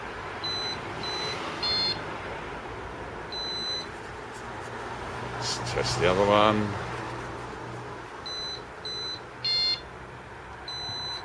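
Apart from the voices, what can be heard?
motorbike alarm beeping during test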